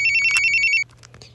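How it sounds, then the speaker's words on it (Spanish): A mobile phone ringtone plays close and clear as a rapid train of bright electronic beeps, then cuts off abruptly, leaving a few faint scattered blips. "Enseguida veremos el de una llamada de un teléfono móvil."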